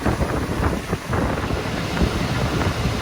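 A dirty exhaust fan motor with dry, ungreased bearings runs close up, a rough continuous whirring roar with fluttering pulses and a grinding edge throughout.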